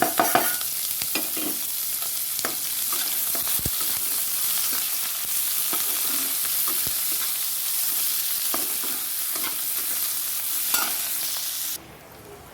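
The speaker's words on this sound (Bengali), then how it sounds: "পেঁয়াজটা দিয়ে দিয়েছি পেঁয়াজটা ভাজা হচ্ছে" Chopped onion fries and sizzles steadily in a pan at home, with occasional stirring scrapes and clicks throughout, fairly close and continuous, then quiets abruptly near the end.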